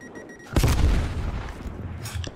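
A grenade detonates in Black Ops Cold War with one heavy, close boom that rumbles and decays over about a second, followed by faint scuffing.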